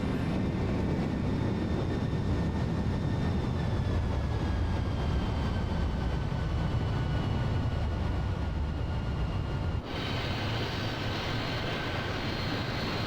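A C-17 jet in Microsoft Flight Simulator 2020 gives a steady, loud engine roar with a faint high whine, sustained throughout and shifting slightly in tone near the end, with no talking.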